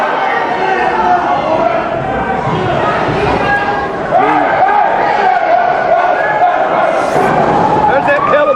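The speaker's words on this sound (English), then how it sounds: "Fans are actually cheering for that." Wrestling crowd at an independent indoor show cheering and shouting in a steady roar, with louder swells partway through and a commentator talking over it.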